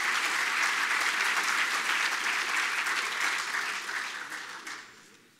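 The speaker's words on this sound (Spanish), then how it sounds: "un aplauso para él" An audience at an awards event applauds a presenter with steady, dense clapping that holds evenly and then tapers off toward the close.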